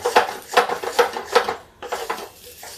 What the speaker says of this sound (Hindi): इसको हम चला देते हैं